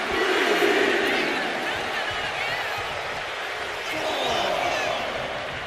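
A video-game wrestling arena crowd cheers steadily throughout, a broad roar that swells at the start and again near the end, with an announcer talking over it.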